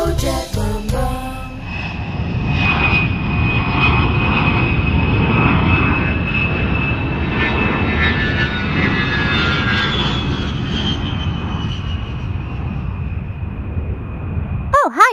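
A cartoon jumbo jet's engines roar loudly and continuously, a broad rumbling whoosh with a rising whine that holds steady before cutting off near the end, no speech over it.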